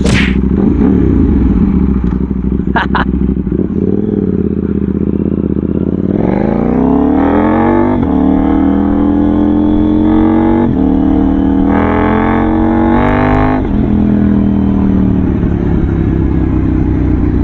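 A KTM Duke 790 motorcycle engine idles loudly, then revs up several times in rising and falling surges, heard up close with no talking.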